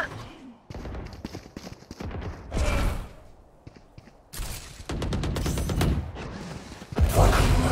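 Valorant gunfire, bursts of rapid rifle shots separated by pauses of footsteps and quieter action, several loud volleys close by, with a player talking at times.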